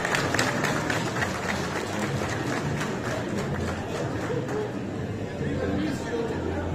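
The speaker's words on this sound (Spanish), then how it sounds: "Fuertes los aplausos para él" A crowd at a ranch gathering in San Melchor Betaza applauds the governor, sustained clapping blended with crowd chatter and murmuring voices, steady and moderately loud throughout.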